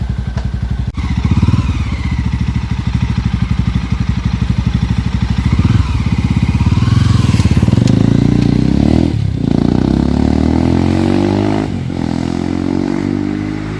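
Loud, close Mahindra Mojo motorcycle exhaust with the dB killer removed, with a deep thumping idle rising into several throttle revs and accelerating pulls, then easing off between bursts.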